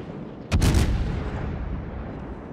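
A single heavy naval gun salvo booms at about half a second in World of Warships, with a sharp crack that rolls into a long, loud rumble. It fades under steady engine and sea ambience.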